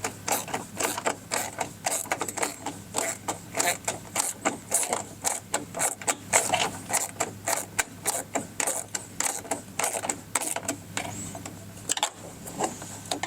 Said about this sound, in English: now we're just going to use our ratchet with the 10mm socket and our 4mm Allen